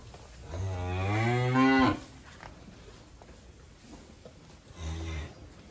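Cattle on a Vinh Long breeding farm moo close and loud, one long drawn-out low call followed after a pause by a shorter second moo, with quiet barn background between.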